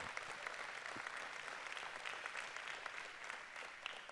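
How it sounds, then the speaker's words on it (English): Steady applause from a gala audience fills the room, a dense, even wash of many hands clapping at a constant level with no voices on top. "How about a big round of applause for Sienna?"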